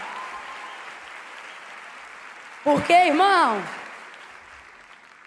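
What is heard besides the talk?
congregation applauding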